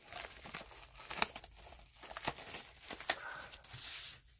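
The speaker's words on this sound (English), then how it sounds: "Unwrap it." Close, quiet crinkling and tearing of plastic wrap being pulled off a Blu-ray slipbox, with irregular sharp crackles and rustles.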